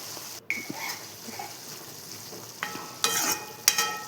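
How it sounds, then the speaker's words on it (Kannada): Chopped coconut and coriander are stirred into padadi baji in a pan over a soft, low sizzle, with a few light scrapes and clinks of the spoon near the end. "ಆಮೇಲೆ ಕಟ್ ಮಾಡಿಕೊಂಡಿರುವ ಕೊತ್ತಂಬರಿ ಹಾಕಿ ಮಿಕ್ಸ್ ಮಾಡಿಕೊಳ್ಳಿ."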